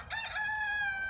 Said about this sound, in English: it sounded like that rooster was straining